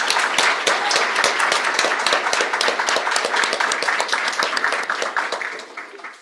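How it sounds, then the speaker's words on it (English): An audience at a university honors convocation gives a round of applause for award winners, rapid overlapping claps that stay strong, then thin out and fade in the last second. "Let's have another round of applause for those winners."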